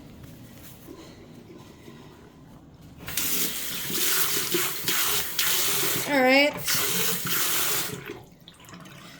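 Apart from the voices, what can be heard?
cold water running from a tap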